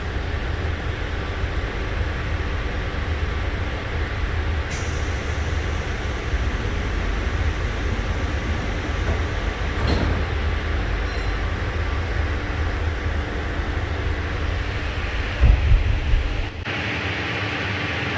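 A Sydney Trains K set stands at a station, with a steady loud train hum and rumble throughout, a high whine that starts and then stops partway, and a brief clunk near the end, without voices.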